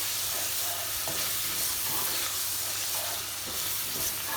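Yogurt being stirred into a simmering kofta and potato curry in a pot, a steady soft sizzle and bubbling with faint spoon scrapes throughout, no voices.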